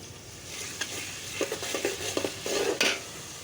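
Rice for pulao fries in a pot, a soft background sizzle broken by the scrape and clatter of a spoon stirring the grains against the metal, with no voices.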